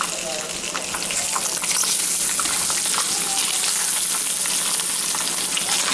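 Bacon frying in a pan, a loud, steady hiss and crackle of fat filling the whole stretch without pause.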